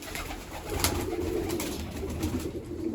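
A pigeon coos softly in repeated low, throaty phrases, fairly close, over a faint outdoor background hiss.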